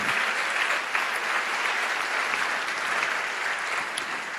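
Church congregation applauding during a Spanish-language service, dense sustained clapping from a large crowd, loud and steady throughout with no speech over it.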